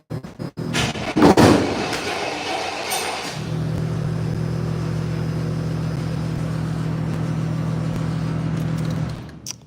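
A 1986 Chevrolet C10 pickup with a throttle-body-injected engine cranks with a short burst of starter noise, then catches and settles into a steady, loud idle hum that runs for several seconds before cutting off.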